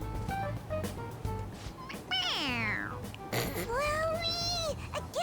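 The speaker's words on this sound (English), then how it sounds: "It meows when you press on its head." A toy cat in the Persona 5 Royal video game gives two drawn-out, whiny electronic meows when its head is pressed, each bending in pitch and clearly audible over a steady backdrop of game music.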